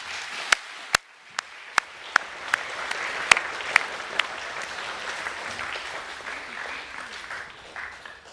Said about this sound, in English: How about we give them one more round of applause, please?